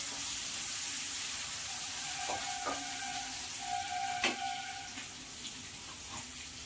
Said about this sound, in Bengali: ওই গোটা পেঁয়াজটাকে আমি কুচি করে নিয়েছি। এটাকে আমি একটুখানি ভেজে নেব।